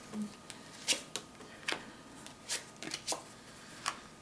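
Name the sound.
tarot cards being shuffled and pulled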